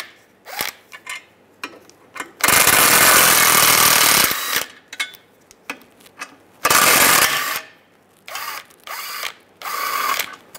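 Ratchet with a 13 mm socket removing control arm bolts on a 1998-2010 Volkswagen Beetle, heard as loud close bursts of rapid clicking and mechanical rattling between quieter handling sounds.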